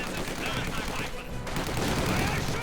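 Maxim machine gun fire in the World War II strategy game Company of Heroes 2 rattles as dense, continuous bursts under a caster's commentary, with other battle noise mixed in.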